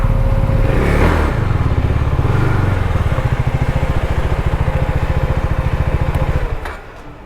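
A KTM motorcycle on a Ladakh trip rumbles close by at low speed with a rapid, even engine beat, then the sound drops away sharply near the end as it pulls in to park.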